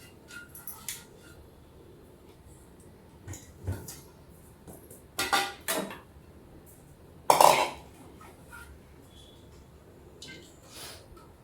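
Scattered kitchen clatter of dishes and pans while bhakri flatbread is prepared, with a few sharp metallic clinks and knocks separated by quiet gaps.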